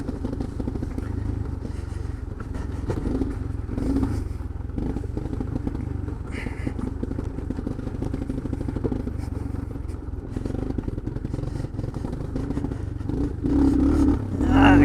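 A Suzuki Quadrunner 250 ATV runs rough on a trail, its engine chugging with uneven revs under rattling and clatter from the machine as it rides along.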